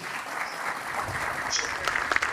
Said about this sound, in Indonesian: Kita berikan tepuk tangan Bung Refli.